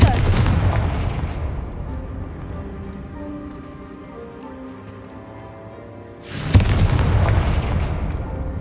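A Confringo fire spell blasts in Hogwarts Legacy, with a heavy booming explosion that decays into a long rumbling tail, followed by a second loud, sharp blast near the end.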